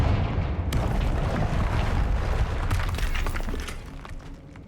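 A Confringo spell explosion in the game Hogwarts Legacy, a dense crackling, shattering burst that rumbles on steadily for several seconds before fading slightly at the end, with no talking.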